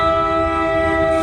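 A Metro North train in a dense residential area near the Garfield train station in New Jersey, giving a loud, steady sustained horn blast that rings throughout over rumbling low noise.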